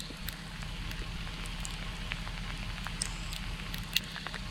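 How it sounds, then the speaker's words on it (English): Ice hitting trees by the woods in a winter storm gives a soft, continuous crackling patter like a rain stick, faint and steady, with a low hum underneath and a few sharper ticks. "If you hear what sounds like a rain stick, that's ice hitting the trees."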